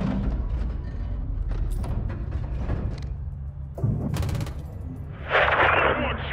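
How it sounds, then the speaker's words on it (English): Small-arms gunfire crackles in Call of Duty: Modern Warfare 2, scattered bursts of shots and impacts amid battle noise, with a louder hissing blast near the end and voices talking in places. "Seeing small arms fire from the gas station."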